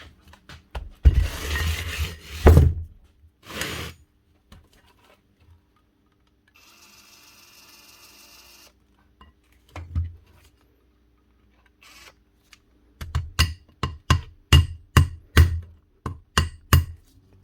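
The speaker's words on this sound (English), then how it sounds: "give it a slap with a hammer." Scraping and rubbing on metal, then a quick run of sharp hammer taps on the spindle of a Makita DHP483 compact drill, about a dozen close, ringing strikes in rhythm.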